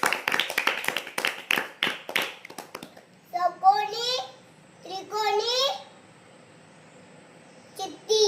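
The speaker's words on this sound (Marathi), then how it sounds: "छान, टाळ्या वाजवा रे" Children clap in a quick, uneven burst of sharp hand claps for about three seconds, followed by children's voices speaking and babbling in short phrases.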